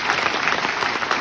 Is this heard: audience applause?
yes